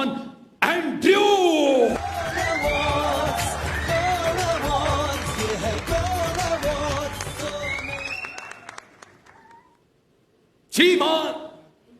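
An audience applauds and cheers a contestant at a comedy award show. Dense clapping and whoops swell for several seconds alongside talking, then die away into near silence before a voice returns.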